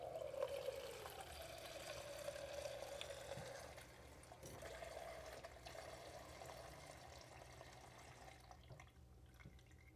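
Water poured in a steady, faint stream into a measuring cup, filling it to 300 milliliters over about ten seconds, with no voices.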